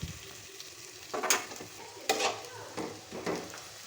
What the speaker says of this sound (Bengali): পেঁয়াজগুলো একটু লাল লাল করে ভেজে নিতে হবে।